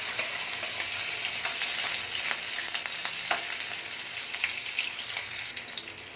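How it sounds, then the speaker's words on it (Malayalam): Paneer fries in hot oil in a pan, a continuous crackling sizzle with occasional sharper pops and stirring scrapes, close and steady throughout with no talking. "പനീർ ഒന്ന് ചൂടാക്കി ഓയിലൊന്ന് ഫ്രൈ ചെയ്തെടുക്കാം."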